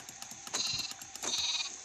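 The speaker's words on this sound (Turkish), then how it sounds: "yavru koyun" Small baby-sheep bleats from Minecraft repeat in quick succession, high and thin with a synthetic, game-like quality, against a quiet background.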